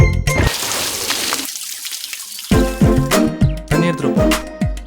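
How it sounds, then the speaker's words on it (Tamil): Water splashes and sloshes loudly in a first rush, then after a short pause comes a series of sharp repeated splashes at close range, with no talking. "தண்ணிய மேல ஊத்திடுவேன்."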